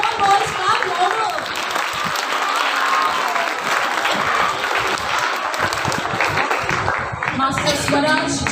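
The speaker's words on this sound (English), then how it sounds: "Come on, boys, clap louder." An audience at a school festival prize announcement clapping for competition winners, a continuous thick wash of applause filling the whole stretch, with a voice speaking over it.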